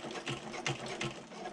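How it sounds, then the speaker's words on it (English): A sewing machine stitches across the seam of a bag liner in a steady, muffled mechanical whir with faint rhythmic pulses, close by and fairly quiet, with no talking. "sewing over that seam."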